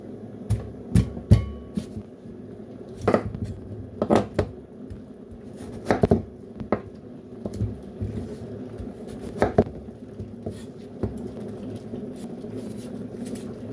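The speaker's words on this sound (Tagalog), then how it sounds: "Lalagay natin sa lalagyan at hiwain natin yung sayote." A knife cuts chayote on a board in a home kitchen, a handful of close, sharp chops and taps spaced irregularly over quiet background.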